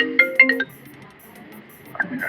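A phone ringtone sounds during a company board meeting: a few bright, loud electronic tone bursts in quick succession, then a quieter sustained pattern, with a brief return of notes near the end.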